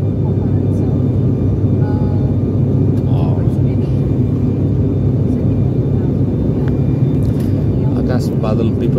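Cabin of a Buddha Air plane in flight from Pokhara to Kathmandu during the monsoon, shaking through clouds, with a steady low engine drone and rumble throughout and people talking over it.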